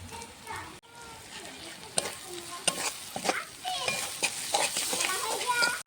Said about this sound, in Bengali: এবার আমি দিয়ে দিচ্ছি আদা রসুন লঙ্কা বাটা, দিচ্ছি টমেটো কুচি।